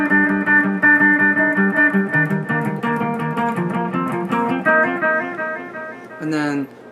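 An electric guitar plays a riff, with quick hammer-on notes in a busy, even stream, loud and close, ending in a brief sliding chord.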